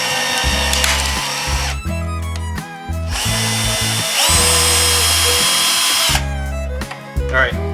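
A Bosch Flexiclick cordless driver drives a long screw down into wood near a corner with its offset attachment, the motor whining in repeated bursts of several seconds, loud and close, broken by short pauses.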